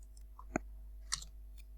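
A computer mouse clicks while selecting a spreadsheet cell, two faint, sharp clicks about half a second apart in an otherwise quiet room.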